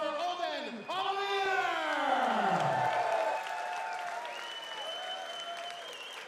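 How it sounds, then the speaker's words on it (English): A darts final crowd at the Dutch Open applauds and cheers for a player, a loud sustained roar under a long, drawn-out announcer's voice that dominates the front and then fades as the clapping carries on. "Ladies and gentlemen, keep your applause going for Odin Oliver!"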